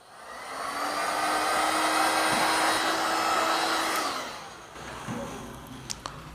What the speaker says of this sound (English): Now we'll put the heat gun.